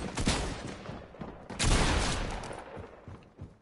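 Assault rifle fire in Fortnite, dense bursts of shots from about 1.5 seconds onward, loud and close with sharp repeated cracks and no talking.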